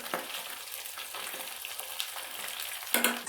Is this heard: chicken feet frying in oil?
yes